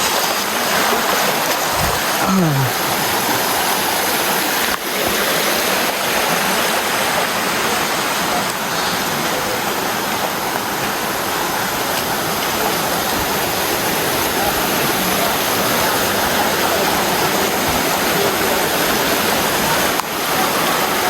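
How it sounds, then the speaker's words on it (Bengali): Another waterfall along a rainy, slippery trail to Ichhakhum roars as a dense, steady wash of falling water, loud and close, with a faint voice briefly under it. "আরো একটি ঝর্ণা।"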